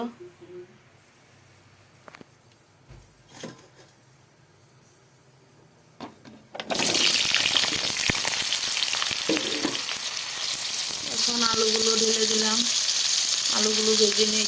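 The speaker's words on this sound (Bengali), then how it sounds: "কড়াইতে তেল দিয়ে দিয়েছি এখন আলুগুলোকে ভেজে নেব" Potatoes drop into hot oil in a wok and fry with a loud, steady sizzle for the second half, following quieter kitchen clatter; a voice speaks over the frying near the end.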